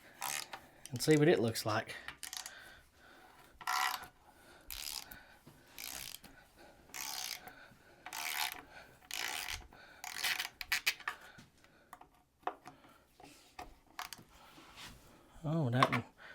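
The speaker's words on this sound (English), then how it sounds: "we're just going to take the valve cover off" Ratchet clicks and metallic scraping bursts come from taking the valve cover off a worn, oil-covered Ford 300 inline-six with 200,000 miles, in repeated close bursts with someone talking between them.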